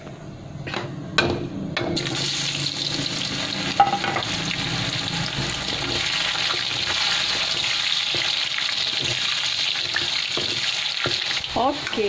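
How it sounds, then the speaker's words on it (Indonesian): Tempeh sizzles and crackles steadily frying in hot oil, close by, with occasional clinks and scraping from stirring. "lepas ni kita goreng tempe"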